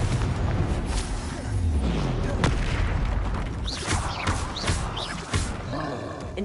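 An explosive Confringo spell from Hogwarts Legacy bursts amid a dense, loud wash of combat effects, with booming impacts and sharp crackling hits layered over continuous battle noise.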